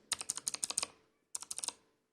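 Two quick bursts of clicky key presses on a Razer Huntsman Elite mechanical keyboard, close and crisp, with a brief pause between rapid runs of keystrokes and no voice.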